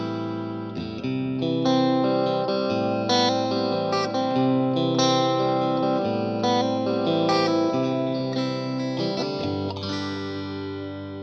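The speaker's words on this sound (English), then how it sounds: "Let's increase the echo level, so the number of repeats, pull the mix back a little bit." An electric guitar played through a VFE Blueprint Delay pedal set to a long delay time, its notes trailing into long echo repeats that overlap and ring continuously, loud and close with no talking.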